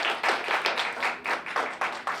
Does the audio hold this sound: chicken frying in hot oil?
no